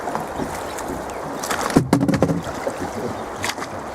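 Oars working a boat on the Roaring Fork River, soft splashes and wooden knocks in a loose rhythm over a steady wash of moving water and light wind.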